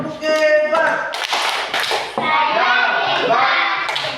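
Children in a primary classroom clap a rhythmic group cheer, a burst of sharp hand claps in patterned bursts with a voice and chatter mixed in, close and lively.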